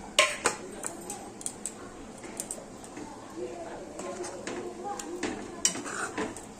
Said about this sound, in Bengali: মিনিট 5 নাড়ার পরে আমি পনিরের টুকরোগুলো এইভাবে সবটা দিয়ে দিলাম।